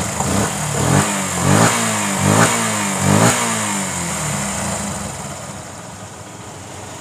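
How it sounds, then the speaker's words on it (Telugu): A Yamaha FZ motorcycle fitted with a Pulsar carburetor, which has an overflow fault, runs close by, revving in several throaty bursts before settling into a steady idle; a voice speaks briefly. "అదేవిధంగా ఇంజిన్ బీటింగ్ అని చెక్ చేయండి."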